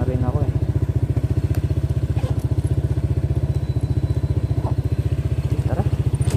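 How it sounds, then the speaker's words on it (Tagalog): A Honda PCX160 scooter idles close up with a steady, fast, even engine pulse throughout, and a few faint clicks and knocks sit over it. "Kinuha ko na tong motor ko."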